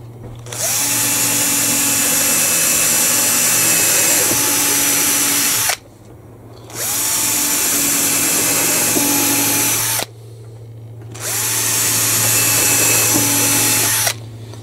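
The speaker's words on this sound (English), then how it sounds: "Now I'm going to pre-drill the screw holes and glue them with the OB1." Power drill pre-drilling screw holes in timber for a gate, three long loud whining runs of about five seconds each, separated by short pauses, close up.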